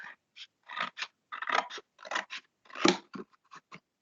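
Scissors snip through paper to cut a face off a 3-D paper figure, giving a quick series of short, close crisp cuts, about a dozen in four seconds, with no talking.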